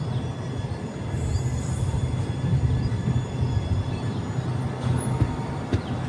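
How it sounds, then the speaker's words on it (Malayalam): The Malaysian jungle train on the Johor Bahru to Tumpat line rumbles steadily into Dabong station, with a continuous loud roll of wheels and carriage noise and a faint high squeal. "ട്രെയിൻ ഇപ്പോൾ ദാബോങ് എന്ന ഒരു സ്റ്റേഷനിലേക്ക് ഇതാ"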